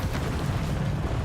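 Confringo fire spell blasts during a Hogwarts Legacy duel against dark wizards, a sustained low rumbling roar of explosive energy that fills the whole stretch at steady loudness.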